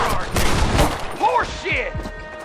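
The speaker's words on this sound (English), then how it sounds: "Stop shooting at me!" A burst of gunfire in the Western video game Red Dead Redemption, several sharp shots cracking in quick succession at close range amid other game sounds, with a voice briefly heard.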